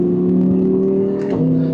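Audi R8 V10 Performance with its 611-horsepower V10, held high in the rev range as a loud, steady engine drone that shifts pitch briefly near the end.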